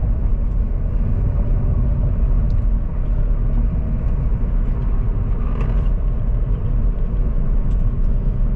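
Toyota Altis car, repaired after heavy engine vibration and overheating, driving on a road test; a steady, loud low rumble of engine and road noise fills the whole stretch with no talk.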